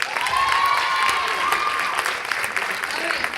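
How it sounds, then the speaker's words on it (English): Audience applause for a volunteer at a high school talent show, a steady, dense burst of clapping with light crowd noise that holds at even loudness throughout and fades slightly near the end. "Please give a round of applause."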